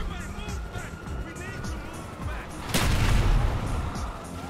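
Sticky bomb blasts from GTA Online: one sharp, loud explosion bursts out midway, set against steady game noise and rumbling while someone talks excitedly over it.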